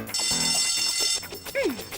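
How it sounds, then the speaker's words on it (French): A school lunch bell rings in an animated scene, a bright sustained metallic ring that lasts about a second and then cuts off, followed by voices and a short swooping cartoon sound. "La cloche du déjeuner."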